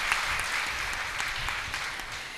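An audience at a Guru Purnima gathering claps for child performers in steady applause heard from some distance at moderate volume.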